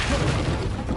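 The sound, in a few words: Confringo blasting spell cast in video game Hogwarts Legacy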